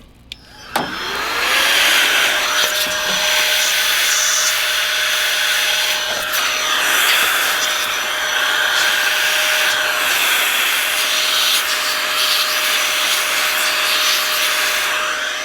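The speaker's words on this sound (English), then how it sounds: "we're just going to take our air, and then you'll see when I do this, it's going to blow it out" Compressed air blasting debris out of a string trimmer, a loud, steady hiss of air that starts after a short click and keeps going for the whole stretch, close up with no talk.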